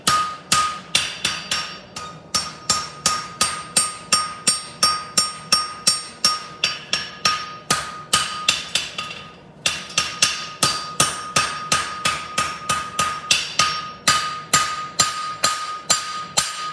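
Rhythmic, ringing hammer blows forging metal on an anvil for a horseshoe, struck steadily again and again, close up, with only a brief pause partway through.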